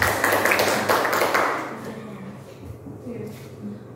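An audience at a school gathering claps together, a dense burst of applause in the first second and a half that fades into a quieter murmur of talk.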